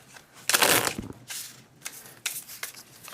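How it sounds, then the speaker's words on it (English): Brand-new deck of playing cards being shuffled by hand, several quick riffling bursts with crisp papery flutters separated by brief pauses, close and clear. "so you will want to give them a good shuffle"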